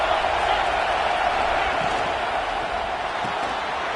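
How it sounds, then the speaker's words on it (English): Steady roar of a stadium crowd in a college football video game, loud and continuous throughout with no break, rising slightly in the middle and holding a dense wash of voices. "This crowd trying to make life miserable for this offense."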